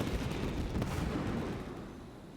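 Festival fireworks in Genshin Impact rumble as a dense wash of distant booms and crackles, a continuous low roar that slowly fades, with no talking.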